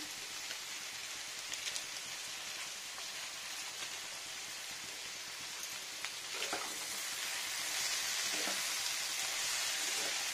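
Spices fry in a pan with a soft, continuous hiss and sizzle, faint and even throughout, with a few light scrapes and no talking.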